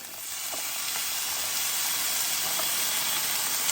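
Drained chickpeas hit a hot pan in a van kitchen and sizzle, a steady, bright frying hiss that stays loud and close throughout without any talking.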